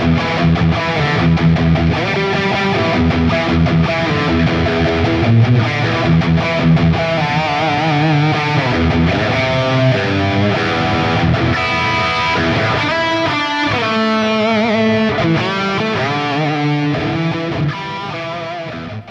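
A heavily distorted electric guitar plays a full, sustained, loud riff throughout, thick with effects and without pause.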